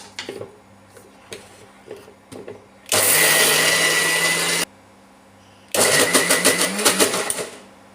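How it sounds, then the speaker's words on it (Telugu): Dosa batter grinds in a kitchen mixie in two loud bursts, the first a steady whir of nearly two seconds and the second a rattling, pulsing run about a second later, with light clatter beforehand. "దీనికి మూత పెట్టి మిక్సీ పట్టుకుందాం"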